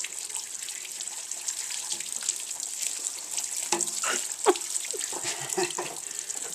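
Running water from a hose washing grit from around the petrol tank cap of a motorcycle in a garage, a steady hiss with intermittent splashing and spattering bursts, near and continuous.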